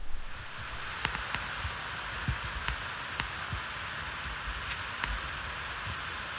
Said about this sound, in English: I got my tarp set up just in time for it to start raining.